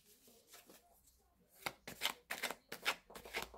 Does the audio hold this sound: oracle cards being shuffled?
yes